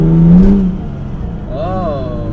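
The engine of an Isuzu VehiCROSS project car runs rough in first gear with a loud, uneven drone, while someone talks over it and a whining, wavering tone rises near the end.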